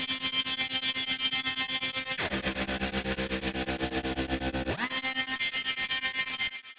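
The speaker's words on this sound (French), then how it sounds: "j'utilise justement le tremolo pour créer justement, eh bien, cette, encore une fois, cette texture, parce que c'est un synthé texture" A texture synth pulses with a fast, steady tremolo through a chorus section, the sustained tone dropping in pitch midway and then returning, loud and continuous with no voices.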